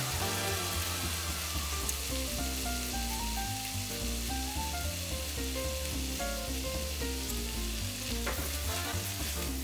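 Minced meat soboro seasoned with sansho pepper frying in a pan, with a steady, continuous sizzle over background music and no pauses.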